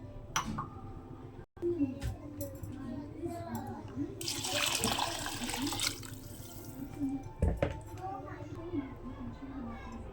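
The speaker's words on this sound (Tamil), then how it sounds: "எட்டு டம்ளர் தண்ணி சேர்த்துக்கணும்" Water is poured into a cooker of rice for vegetable biryani, a broad rushing hiss that swells mid-clip over a steady low kitchen hum, with spoken voice running throughout.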